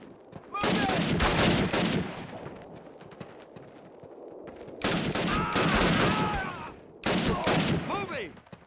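Gunfire in the Call of Duty video game comes in dense, loud bursts of rapid shots. Three volleys are separated by short lulls, with faint voices underneath.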